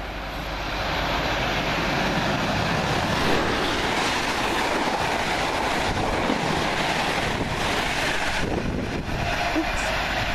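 A Class 90 electric locomotive-hauled Norwich to Liverpool Street express rushes past a station at Kelvedon, a loud sustained roar of wheels and rails with rhythmic clatter and wind buffeting throughout.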